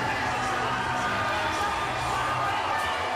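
Wrestling arena crowd cheering as tag team Team 3D comes to the ring, a dense, even wash of crowd noise with no breaks, heard from within the venue.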